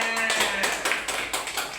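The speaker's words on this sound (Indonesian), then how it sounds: "tepuk tangan semuanya" A class claps hands during a teaching practice session: a short, rhythmic run of close, crisp claps with a voice briefly at the start.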